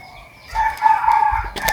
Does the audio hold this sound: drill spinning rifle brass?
no